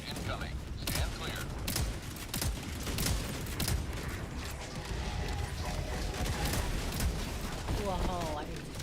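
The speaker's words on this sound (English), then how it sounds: "Orbital barrage incoming." Orbital barrage strikes pounding a battlefield in a video game: a dense, continuous rumble of explosions and rapid impacts, with scattered mechanical clatter and a voice talking faintly underneath.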